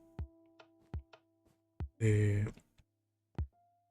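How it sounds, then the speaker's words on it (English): The warden's heartbeat in the Minecraft video game throbs as deep, regularly spaced thumps, with a short burst of a louder growling sound in the middle. "heart noise, right? The heartbeat."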